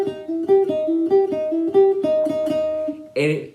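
A jazz guitar phrase built from the blues scale, played as a string of plucked single notes with a slide between positions, close and clear, ending with a brief burst of speech.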